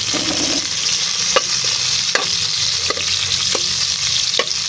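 Onion, garlic and ginger sauté in a hot pan, giving a constant loud sizzle with intermittent scraping stir strokes from a utensil, close up and with no talking.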